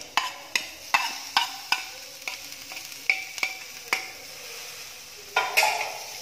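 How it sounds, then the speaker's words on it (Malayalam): A beef cutlet mixture with curry leaves and coriander is stirred in a frying pan: a dozen sharp, irregular scrapes and taps of the spoon against the pan over a soft, steady sizzle, close by and with no talking. "നന്നായിട്ടൊന്ന് ഇളക്കി കൊടുക്കാം."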